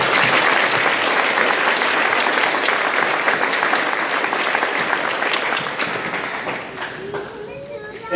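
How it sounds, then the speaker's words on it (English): An audience at a 2023 graduation ceremony breaks into loud, dense applause that holds steady and then thins toward the end, with voices emerging as it fades. "One more round of applause."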